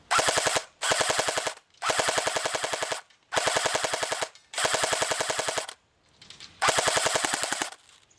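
Airsoft gun fed from a wound JMag fires six rapid full-auto bursts of BBs, each burst a dense rattling chatter lasting under a second, separated by short pauses, loud and close with no talking.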